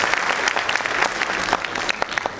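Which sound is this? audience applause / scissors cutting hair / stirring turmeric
audience applause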